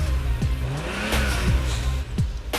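A Lamborghini sports car engine revs and accelerates loudly nearby, with several sharp pitch rises and gear changes over a steady rumble.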